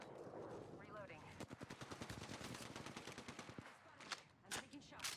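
Rapid automatic gunfire in Apex Legends, a dense burst of closely spaced shots followed by a few heavier single blasts, loud and close, with game sounds around.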